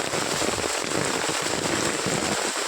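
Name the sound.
heavy rain falling in a village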